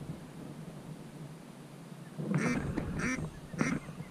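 A duck quacks three times in quick bursts partway through a Florida duck hunt, the calls fairly close and clear over a quiet outdoor background.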